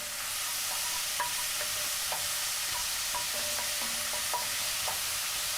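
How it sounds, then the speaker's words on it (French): Onions frying in a pan after meat has been browned, a steady loud sizzle with scattered small pops and crackles, close and continuous, with no talking. "maintenant je fais revenir les oignons"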